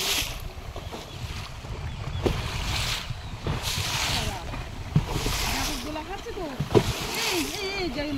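Storm-driven waves churn and splash against a boat on the Garal river, with steady wind and water rushing throughout and a few sharper slaps standing out, while someone talks over it nearly the whole time.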